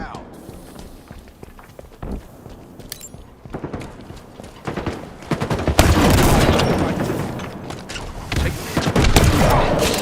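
Grenade blast and bursts of gunfire in the video game Halo Infinite, loud and chaotic, with the heaviest explosive rumble in the second half, mixed with game voice callouts.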